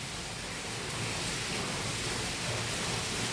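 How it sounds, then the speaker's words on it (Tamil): Light, slow rain falls steadily outdoors, a soft continuous broadband hiss with no distinct drops, heard alone without talk. "மழை கொஞ்சமாக ஸ்லோவாக இருக்குது."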